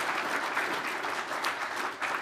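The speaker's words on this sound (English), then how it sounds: "Get a clap." Audience applause fills a press club address hall, a steady dense clapping from a large crowd lasting a couple of seconds with no talk over it.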